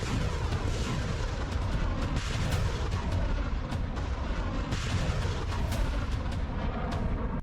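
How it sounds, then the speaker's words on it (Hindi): 152 mm artillery shells firing in a war zone, a dense, continuous roar of heavy booms and blasts rumbling loudly throughout with no gaps. "एक 152 mm के ये गोले 25 किलोमीटर तक दुश्मन पर सटीक हमले कर सकता है।"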